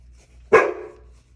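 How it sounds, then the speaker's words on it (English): A pet dog gives a single sharp bark indoors, loud and close, with a short ringing tail, in an otherwise quiet room. "Sorry, my dog is barking when she hears something."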